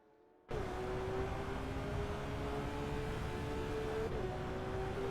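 GT3 race cars in a racing video game roar at steady high revs after a sudden start, with a sustained engine whine holding pitch and briefly shifting near the end, loud and continuous without talk.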